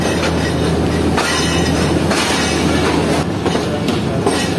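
The Baba Fareed Express passenger train rolls along between Rahim Yar Khan and Karachi in Pakistan, giving a continuous loud rumble of wheels and carriages with periodic clacking over rail joints.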